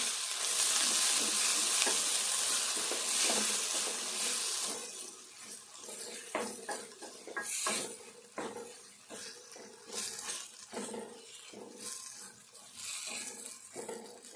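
Brinjal and onion masala sizzles loudly in a pan at first, then quieter frying continues under repeated stirring scrapes and knocks of the spoon.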